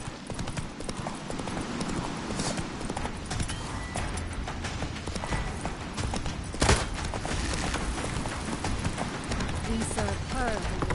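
Roach, Geralt's horse in The Witcher 3, gallops in quick rhythmic hoofbeats under combat noise and shouted voices, the clattering strides continuous and close throughout.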